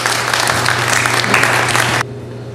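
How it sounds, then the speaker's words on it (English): An audience claps loudly and steadily for a performer on stage, a dense burst of applause close to the microphone that cuts off sharply. "give this woman a round of applause."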